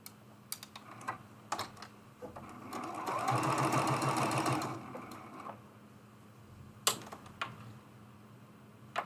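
A sewing machine stitches the joined ends of binding on a small quilted mug rug, with a quick burst of steady whirring in the middle and light clicks and handling taps around it, close and moderately loud.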